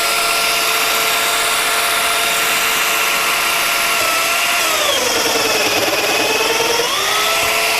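A Festool Domino joiner runs at a steady high whine, then audibly dips and bogs as it plunges into wood to cut a mortise before recovering, loud and close with no talking.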